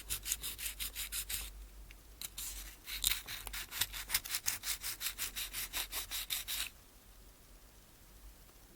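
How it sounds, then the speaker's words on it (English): Thin sandpaper is rubbed over plaster on a vintage NZG model excavator, giving close, rapid back-and-forth scratchy strokes in a steady rhythm that stop abruptly near the end. "I used some thin sandpaper to level it down"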